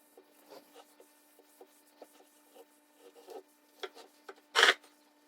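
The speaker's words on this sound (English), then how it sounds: "then I'm going to sand that mess right there" Hand sanding on a piece of turned barn wood: soft, intermittent rubbing strokes that are quiet and close, with one louder, harsher scrape near the end and no talking.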